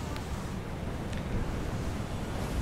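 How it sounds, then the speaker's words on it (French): Steady wind blowing in Granblue Fantasy: Relink, a continuous broad rushing whoosh with no clear gusts, heard alone and fairly quiet. "Ah, ça souffle pas mal, hein."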